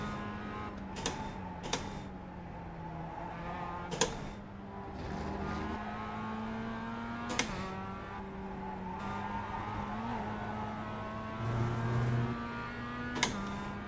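Mazda MX-5 race car in a racing video game, a steady engine drone with shifting pitch held throughout, broken by sharp clicks and brief ticks at irregular intervals.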